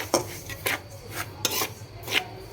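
A utensil scrapes and stirs dry semolina frying in a pan, about six rhythmic rasping strokes, close and fairly quiet.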